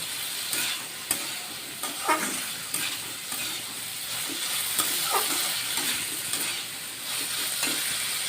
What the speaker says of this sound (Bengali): বেগুনটা আমি মশলার সঙ্গে অল্প নাড়াচাড়া করে নিয়ে শাকটা দেব।